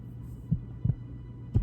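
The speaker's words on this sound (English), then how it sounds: "Oh, the beating. The heartbeat." A heartbeat effect from a horror story: three soft, low thumps, the second a quick double beat, over a steady low hum with no voices.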